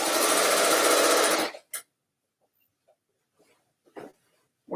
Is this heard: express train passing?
no